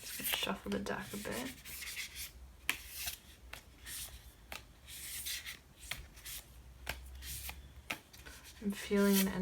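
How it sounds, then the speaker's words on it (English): A tarot card deck is shuffled by hand in close, papery rustling bursts and riffles, with quiet pauses between strokes and some talking over it. "Shuffle the deck a bit."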